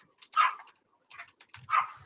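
An old dog, about 17 years old, barks at another dog: two sharp, high yelping barks separated by a pause, with small scratchy noises between them, moderately close.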